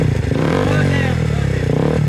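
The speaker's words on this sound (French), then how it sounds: "est-ce que vous êtes prêts à allumer le moteur à droite, s'il vous plaît?" A BMW or KTM motorcycle engine starts and runs with a steady, dense drone at close range for about two seconds, in a head-to-head motorcycle race setting.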